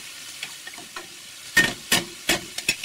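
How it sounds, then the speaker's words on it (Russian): Zucchini fries in a pan with garlic and black pepper under a low sizzle, while a utensil stirs it in several sharp, close scraping strokes that grow louder in the second half. "Помешиваю."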